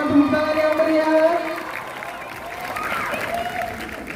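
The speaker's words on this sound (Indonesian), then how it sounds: "Kita berikan tepuk tangan yang meriah." Audience applause at a school orientation (MPLS) gathering at SMAN 2 Palangka Raya, clapping steadily with a voice speaking over it, strongest at the start and easing slightly toward the end.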